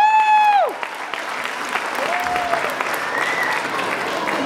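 An audience at a Tamil association Pongal festival applauds a fundraising team for flood relief: loud, dense crowd clapping that follows a brief tonal whistle or feedback squeal, then carries on steadily.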